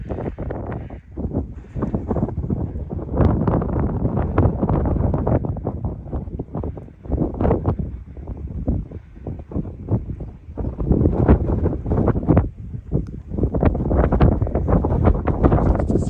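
Strong wind blowing outdoors on open public land beside a truck, gusty buffeting and roaring against the microphone in loud, uneven surges and lulls, no speech.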